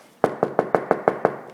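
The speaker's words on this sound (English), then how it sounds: "The engine will turn over, but it knocks." An old car engine with a mechanical knock, heard as a run of seven sharp, evenly spaced knocks about six per second, fairly loud and close with nothing else over them.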